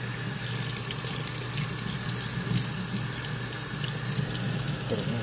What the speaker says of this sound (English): before I strain it, I need to wet the strainer